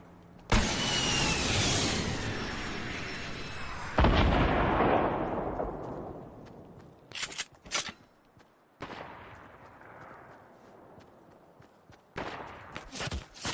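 Gunfire in Fortnite arrives as heavy bursts and booming impacts, with a few sharp separate cracks later on and quieter gaps between them. The shots are loud and come with long decaying echoes.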